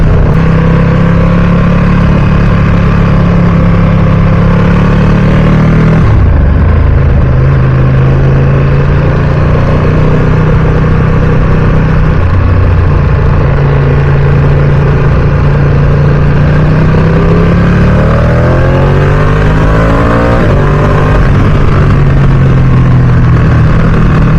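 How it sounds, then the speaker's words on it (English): A Ducati Streetfighter V2 motorcycle engine runs loud and close, its pitch rising and dropping as it revs through gears without pause. "Engine sounds so good, man."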